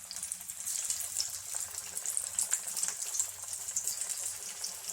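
Red flattened-rice vada frying in hot oil, a steady, dense bubbling sizzle that holds at a constant level throughout, close and fairly loud with no talking over it.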